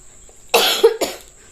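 A person with a cold gives a couple of close, harsh coughs, one burst followed by a second shorter one, with quiet room tone around them.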